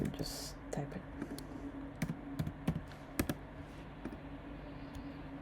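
Someone types on a computer keyboard while setting values for a glass material in Blender, giving irregular, close, crisp key clicks in short bursts with pauses between them.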